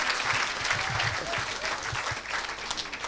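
A crowd at an evangelism event applauds and cheers for Jesus in a dense, continuous wash of clapping that sounds fairly distant and steady throughout.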